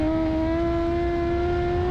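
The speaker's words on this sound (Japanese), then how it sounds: "4速でもレブが当たるようなところまで加速して、 3速を落としまして立ち上がり" A Moriwaki-modified Kawasaki Z900RS motorcycle accelerates hard on a racing circuit, its engine note rising steadily in a loud, close, sustained howl for a couple of seconds.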